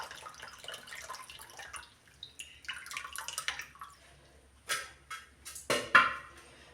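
Tamarind, tomato and chili water being strained for a dried fish curry in a kitchen: soft trickles and drips, then a few louder splashes and pours toward the end, fairly close and otherwise quiet.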